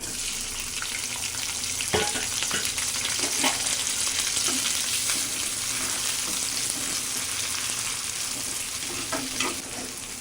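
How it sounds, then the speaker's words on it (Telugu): Green chillies and onions sizzle steadily in hot oil for a prawn and ridge gourd curry, a dense continuous frying hiss with a few soft stirring knocks, close and fairly loud, with no talking. "ఆయిల్ అయితే వేడైంది ఇప్పుడు దీంట్లోకి మనం పచ్చిమిర్చి ఆనియన్ అయితే వేసేసుకున్నాము"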